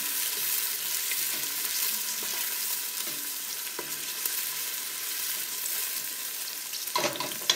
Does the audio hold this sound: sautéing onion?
yes